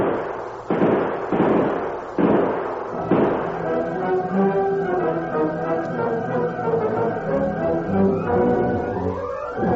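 Gunshots in an old-time Western radio drama: several sharp, loud bangs in the first few seconds, then a dense, ringing, music-like sound with a swell near the end and no talk.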